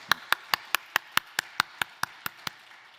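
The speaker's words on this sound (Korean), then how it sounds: "영광의 박수 올려드리겠습니다" A single pair of hands claps in a steady, evenly spaced rhythm, about a dozen sharp claps, close and clear, during a Sunday worship service at Seoul Hongseong Church, rather than a crowd's applause.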